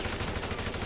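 A rapid burst of automatic gunfire empties a whole magazine in GTA Online, the shots running together into a dense, fairly quiet rattle that swells slightly in its final moment.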